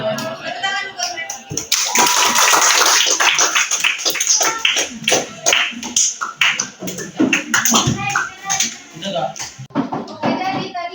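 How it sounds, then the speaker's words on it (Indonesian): A classroom audience claps for students who have just presented, a dense burst of applause building quickly and then thinning into scattered claps mixed with chatter and voices. "Tepuk tangan buat mereka."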